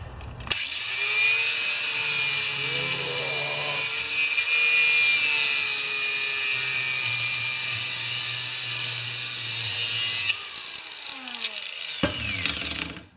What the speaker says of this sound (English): Let's keep going with the grinder.